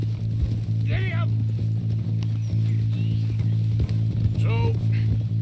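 Horse hooves clip-clop in a steady galloping rhythm in the Red Dead Redemption 2 video game, over a low constant hum, with brief vocal sounds rising above the hoofbeats.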